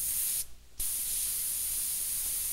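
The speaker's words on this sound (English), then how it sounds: "lower the load more quickly by using the dump valve" A Genie gas hoist's dump valve releasing air, a loud steady hiss that briefly cuts out and then resumes.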